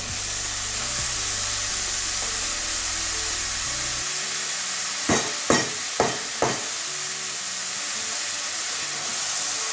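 Papaya and catla fish head stir-fried in a pan, a steady sizzling hiss with four sharp scraping strokes of a spatula in a quick cluster midway; no one speaks.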